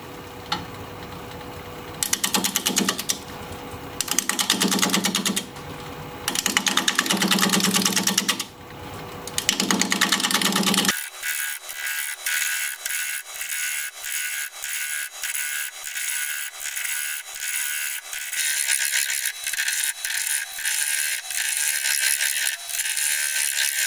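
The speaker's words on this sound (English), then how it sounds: "We're going to get it mounted up on the lathe and get to turning" Very hard, dry wood bowl blank turning on a lathe at 550 RPM against a 5/8 inch bowl gouge, rapid rhythmic ticking and scraping, first in loud intermittent bursts, then a steadier, thinner rattling cut.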